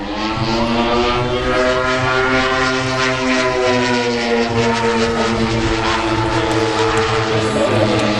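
A warbird propeller aircraft pulling into a hammerhead stall at the Warbirds Over Atlanta airshow, its steady engine drone and whine sustained loudly throughout with slowly shifting pitch, no voices heard.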